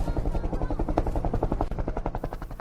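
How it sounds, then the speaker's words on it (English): Maine Forest Service helicopter flying over Churchill Dam, its rotor beating in a steady, rapid thudding pulse at moderate distance, with no voices over it. "the Maine Forest Service helicopter is in the air"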